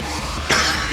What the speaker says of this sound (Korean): 지금 누가 기침 소리를 내었는가 말이야!